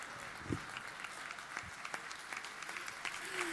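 Theater audience applauding throughout, a steady mass of many clapping hands at moderate distance, with a few louder close claps near the start.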